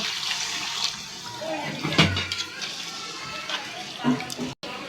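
Water pours into a pan of pumpkin cooking for an egg curry, a rushing, splashing stream with brief clinks, close by and moderately loud.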